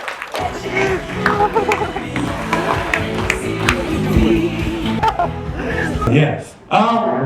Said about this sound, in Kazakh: қол шапалақ ұрайық